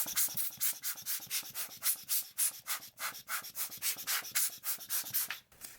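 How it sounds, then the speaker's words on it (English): A dry wipe rubbed back and forth across the screen of a Sony A7R V camera, quick rhythmic soft scrubbing strokes, close and faint. "Then I dry clean with dry wipe."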